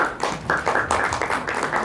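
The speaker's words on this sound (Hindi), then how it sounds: "जोरदार तालियों से खैर मकदम करेंगे" Audience applause welcoming a singer at an Awadh ghazal evening, a steady dense patter of many hands clapping close by, with irregular surges in intensity throughout.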